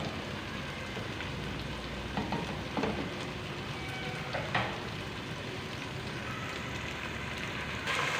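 Tomatoes cook in a pan for a white lobia bean dish, making a close, steady crackling sizzle like light rain, with a few sharper pops and spits scattered through it.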